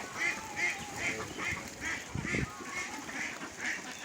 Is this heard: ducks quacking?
yes